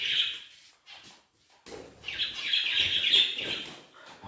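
Pet budgie chirping indoors near Christmas lights, loud close bursts of shrill tweets and squawky chatter, broken by brief pauses before a longer busy stretch of calls.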